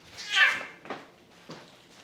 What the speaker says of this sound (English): I stepped on my cat.